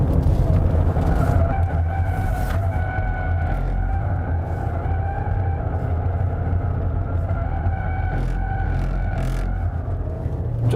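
A 2020 Land Rover Range Rover Evoque D180 diesel mild hybrid in R-Dynamic SE trim, driven in sport mode, hums steadily from inside the cabin as it accelerates and corners, with engine drone and road rumble and no talk.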